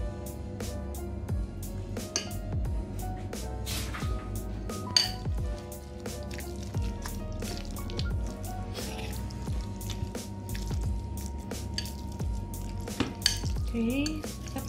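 Tuna and cornflour worked together in a bowl give wet, squishy mixing sounds over about fifteen seconds, punctuated by repeated clinks and taps of a utensil against the bowl.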